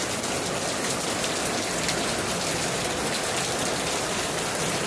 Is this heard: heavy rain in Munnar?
yes